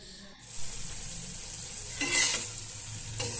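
New potato bhaji with green chilies and onion being stir-fried in a pan, a steady sizzle with scraping stirs that swell briefly, close and fairly loud with no talking.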